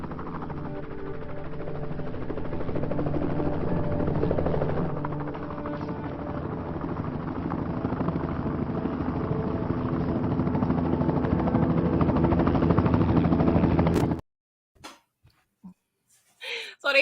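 A helicopter flies overhead in a tense TV drama scene, its steady rotor drone loud and continuous for about fourteen seconds before cutting off abruptly, leaving a few brief faint sounds.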